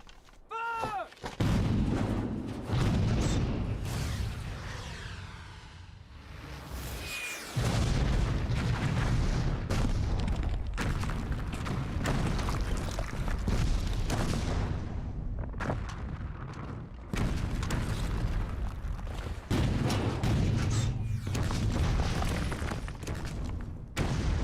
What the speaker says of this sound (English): French cannons are deadly!